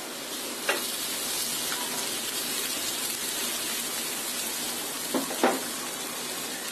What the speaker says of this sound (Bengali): এখন এই পেঁয়াজটাকে একটু ভালো করে ভেজে নিতে হবে।